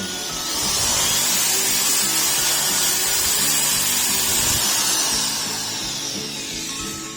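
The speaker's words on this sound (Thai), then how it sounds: "เสียงหวานดีมาก สวิตก็เป็นแบบ ปรับปรับรอบได้ตามแรงที่เรากดนะครับ" An AEG SB630RE electric impact drill runs free at variable speed, a loud continuous motor whine with a high whirring hiss that ramps up, holds steady and then eases down slightly.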